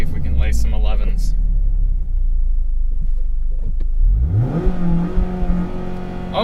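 A 2020 Mazda Miata's engine revs up in first gear with the clutch in, a loud droning rumble climbing in pitch over a steady road noise, close up with speech alongside.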